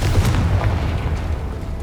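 Confringo explosion spell in Hogwarts Legacy, a loud deep boom with a rumbling low tail that fades over about two seconds, heard alone without talk.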